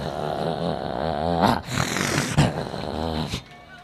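A human voice imitates a male dog, producing growls, snorting rumbles and whimpering whines across several short bursts, loud and close.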